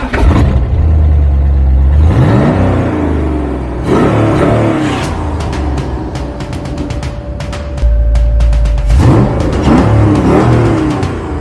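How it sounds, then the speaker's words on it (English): A red Vetter Razor car with dual Corvette exhausts starts up, its engine catching with a loud bark and then revving in repeated surges, close and loud, with brief mechanical clatter between the throttle blips. "And I'm sure you'd like to hear a startup."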